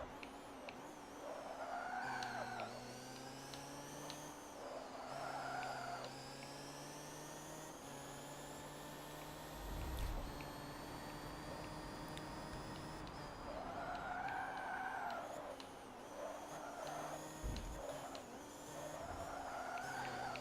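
Race cars in Forza Motorsport 7 roar through a race, engines whining and shifting pitch with recurring tire squeals and skids, a steady layered drone of several cars close by.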